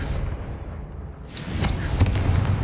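A burst from a Confringo fire spell in Hogwarts Legacy, cast at a hexag, arriving as a loud booming blast with crackling debris that rumbles on over low game ambience.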